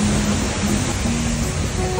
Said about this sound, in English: this is a waterfall.